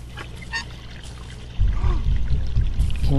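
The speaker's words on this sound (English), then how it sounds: "And we hear the water flowing." Water flowing in Hello Neighbor Act 2, a gushing, pouring rush that swells in loudly partway through and continues steadily, with a faint honk-like tone earlier on.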